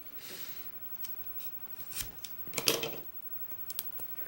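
Scissors cut away the wrapping around a key for a 5-pin Schlage lock, making a handful of quiet, crisp snips and rustles at irregular intervals, close up, with a cluster of sharper cuts near the middle.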